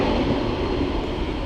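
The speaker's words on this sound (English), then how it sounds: "No wonder the engine's made a racket." Low-flying aircraft coming in to land, a loud, steady engine roar that fills the whole stretch without a break.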